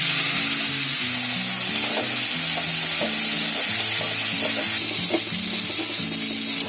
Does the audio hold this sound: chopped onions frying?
yes